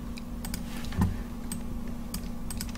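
Someone types Node.js code on a computer keyboard, a run of light, irregular key clicks with a few sharper taps over faint room hum.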